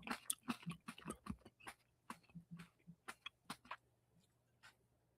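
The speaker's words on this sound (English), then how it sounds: "I'm gonna chew louder." A person chews loudly and deliberately close to the mic, producing a rapid run of wet, smacking bites over about five seconds, dense at first and then spacing out into separate clicks.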